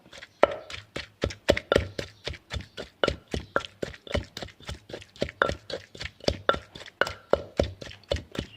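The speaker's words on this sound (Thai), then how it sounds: "เอา ปลาร่าซับละเอียดเนาะลงไปโขลกกับพริกนี่เลยนะเจ้า" Steady, rhythmic pestle blows pounding chillies together with finely shredded fermented fish in a mortar, close and fairly loud, each thud crisp and evenly spaced with no talking.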